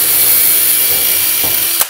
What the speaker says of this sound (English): So I'm drilling my hole through my plate.